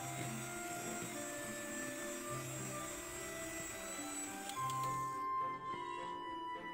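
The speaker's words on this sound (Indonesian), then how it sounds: "Lanjut, mixer kembali dengan kecepatan tinggi sampai semuanya tercampur dan mengembang." An electric hand mixer beats sponge cake batter at high speed with a steady, droning motor whine that drops away shortly before the end, leaving a faint higher tone.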